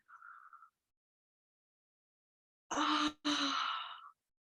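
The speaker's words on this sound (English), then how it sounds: "It just provokes a yawn." A big yawn during a yoga stretch, elbows lifted toward neck and shoulders: a short faint breathy tone, a pause, then a loud drawn-out open-mouthed exhale broken once by a brief catch, fading out, with no talk.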